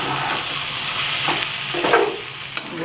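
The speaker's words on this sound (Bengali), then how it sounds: "আমি এবার ঢাকনিটা খুলে আরেকবার নাড়িয়ে নিচ্ছি" Taro stem greens being stirred in a frying pan, a steady sizzle with soft scraping strokes of the spoon running throughout, close and fairly loud.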